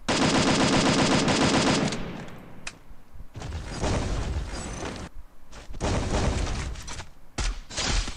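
Rapid automatic gunfire in the Free Fire battle royale game, a dense loud burst of shots followed by several separate volleys and bangs, with a short lull between them.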